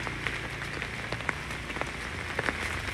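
Rain falling at a cemetery in Vietnam, a steady soft patter with scattered louder drops tapping close by, fairly faint and continuous.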